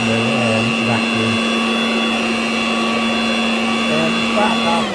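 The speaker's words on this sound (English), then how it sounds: "So there we go with the leaf blower vacuum." An Einhell garden leaf blower vacuum runs at a steady, loud drone with a strong constant whine for the whole stretch, while faint background voices sit underneath.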